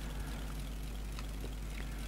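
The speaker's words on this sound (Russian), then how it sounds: "сейчас нальем водички овцам." Water pouring into a trough for sheep in the Farming Simulator video game, a steady, even rush of liquid running unbroken and fairly quiet, with no voices.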